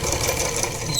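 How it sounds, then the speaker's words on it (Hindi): A sewing machine runs steadily while stitching a blouse puff sleeve, a close, fast rhythmic whirr of needle strokes with no speech. "इधर से एक बार और हम लेकर के आएंगे और अपनी सिलाई को पूरा करेंगे"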